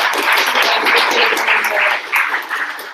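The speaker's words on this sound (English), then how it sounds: "Give an initial round of applause for our awesome panelists doing this for us" An audience gives a round of applause for panelists at a web development capstone presentation, with loud, sustained clapping and scattered cheers from a sizable crowd, and voices mixed in.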